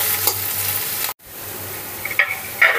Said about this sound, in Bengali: দেখো পেঁয়াজগুলো এবার আমি ভেজে নিচ্ছি।